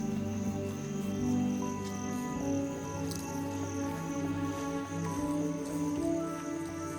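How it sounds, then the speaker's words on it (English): Cicadas in the Periyar forest on an evening trek, a dense, steady insect drone with layered high buzzing tones that holds loud and unbroken throughout. "Sounds of cicadas were intense over here"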